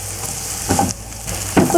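Cinnamon and cloves sautéing in a hot pan for fish molly, a close, loud sizzle with stirring scrapes and short bursts as the spices are moved around.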